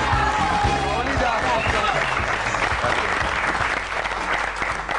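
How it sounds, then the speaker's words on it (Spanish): A television studio audience breaks into loud, sustained applause for a guest, with crowd noise and voices mixed in beneath the continuous clapping. "Voy a pedir un fuerte aplauso."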